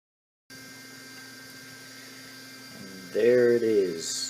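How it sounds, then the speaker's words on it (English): An M3D Micro 3D printer starts a print job, a low steady mechanical hum that gives way to a louder whirring stepper-motor whine with rising and falling pitch near the end. "So all you gotta do is click print and it should start printing."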